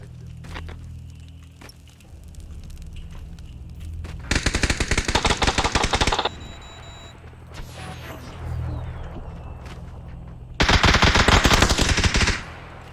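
Two long bursts of rapid automatic gunfire in PUBG, each about two seconds, loud and close, separated by quieter game ambience and a few footsteps.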